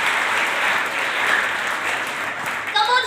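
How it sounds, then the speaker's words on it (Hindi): Audience applause at a talent show, a continuous even wash of clapping that carries on steadily, with a brief bright tonal sound breaking in at the end. "मगर आपकी तालियों में भी जोर होना चाहिए।"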